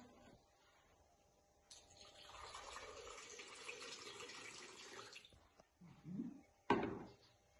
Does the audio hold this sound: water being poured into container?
yes